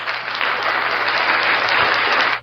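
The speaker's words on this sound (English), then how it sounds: "I'm going to give a round of applause to the Phoenix Suns and to the Golden State Warriors." An audience applauds for the Phoenix Suns and Golden State Warriors, a dense burst of clapping held at steady loudness for a couple of seconds before cutting off.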